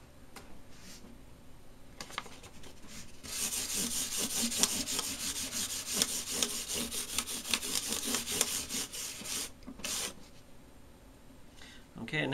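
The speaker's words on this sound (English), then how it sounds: "next I'm going to switch to 1000 grit sandpaper" Guitar frets being sanded with 1000 grit sandpaper, a close, quick rhythmic rubbing that builds and runs for several seconds between a few lighter strokes.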